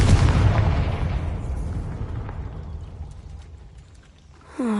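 A Confringo blasting spell goes off in the Hogwarts Legacy video game: a loud, booming explosion with a long rumbling decay that fades over several seconds, then a brief bright tonal flourish at the end.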